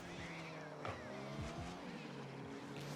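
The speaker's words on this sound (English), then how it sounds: "Oh boy, I think it's called the Calico engine." A Calico engine on a car in a team video game match roars steadily, with rising and falling revving tones and brief whooshes layered through the short stretch.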